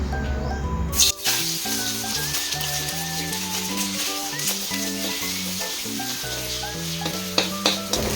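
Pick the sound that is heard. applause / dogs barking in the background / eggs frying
eggs frying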